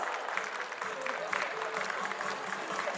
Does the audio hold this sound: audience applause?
yes